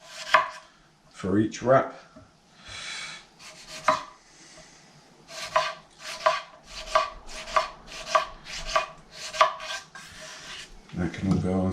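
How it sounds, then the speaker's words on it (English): A knife slices a tomato on a cutting board in a quick series of evenly spaced chops, close and crisp, with a few brief words spoken early on. "I'm going to just slice some tomato"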